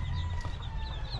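Chickens clucking softly close by over a steady low hum, brief and without talk.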